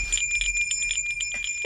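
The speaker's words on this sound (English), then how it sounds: "Let's ring the bell." A hand bell rings steadily beside a Salvation Army red kettle during the holidays, a fast, bright metallic ringing that goes on without a break, close and clear and without talk.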